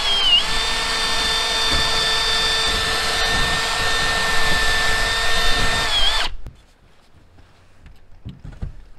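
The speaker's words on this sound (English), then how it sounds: "now I'm going to drill a few holes on here" A power drill whines loudly and steadily for several seconds, drilling holes in a furnace panel for a saw blade, its pitch dipping slightly as it bites, then stops, leaving faint clicks and handling noise.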